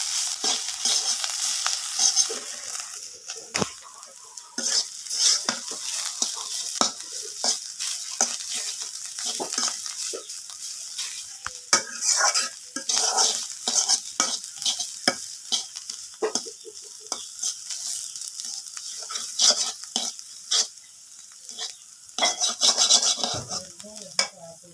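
Fish sizzles and fries in a pan alongside potatoes, with a bright, steady crackle of oil broken by frequent scraping and clinking of a utensil against the pan. The sound is close and lively, and no one speaks.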